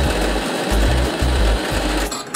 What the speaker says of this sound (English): let's go ahead and grind our coffee into the basket